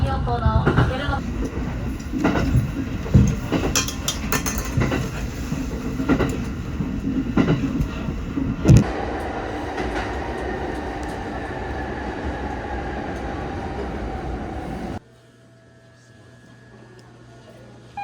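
Japanese passenger train running on rails toward snow country, a continuous rumbling ride with rhythmic wheel clicks, under an onboard announcement, cutting to near quiet at the end.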